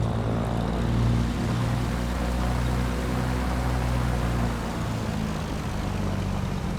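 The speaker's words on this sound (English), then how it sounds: "amazing sound from the engine" In Microsoft Flight Simulator, a propeller aircraft engine runs at around 1000 RPM, a steady droning hum with low harmonic tones, continuous and even throughout, with no talking.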